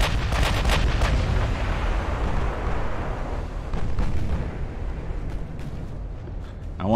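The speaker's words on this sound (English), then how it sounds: "I want to get my main guns targeting him." Battleship main guns firing during a naval battle in the Ultimate Admiral: Dreadnoughts video game, heavy booming salvos at the start giving way to a continuous rumbling roar of distant gunfire and explosions throughout.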